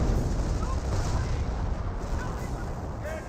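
Artillery fire in Company of Heroes, a continuous dense rumble of shelling and explosions with a faint commentator talking underneath.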